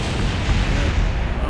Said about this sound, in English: Oh, that was a good explosion.